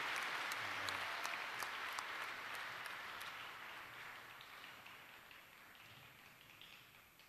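Sustained audience applause at a chamber of commerce annual meeting honoring a sports star, a broad crackle of many clapping hands with some crisp nearby claps, slowly tapering off.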